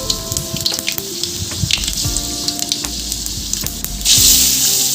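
A five-spice seed mix sizzles in hot oil, a loud crackling hiss with scattered pops that surges into a fuller sizzle toward the end.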